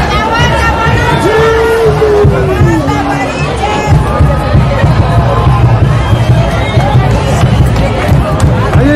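A dense, loud festival crowd at the Diablada de Pillaro in Ecuador, with steady babble, shouting voices and a rumbling low drone that run on without a break.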